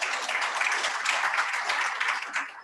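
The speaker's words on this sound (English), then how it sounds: "Honorable members, can we give our two presenters a round of applause?" Members at a provincial local-government assembly give a round of applause, many hands clapping together in a steady, fairly distant roomful, tapering slightly at the end.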